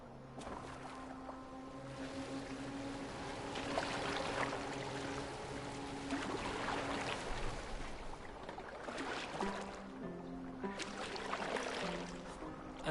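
A boat moves steadily over water in Assassin's Creed Valhalla, with a continuous wash of hull and waves plus wind across the whole stretch, fairly quiet and with no talk.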